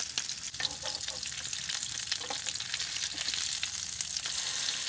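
Sardine patties frying in a pan, a loud, steady close-up sizzle that keeps going for several seconds with light crackles and no talking.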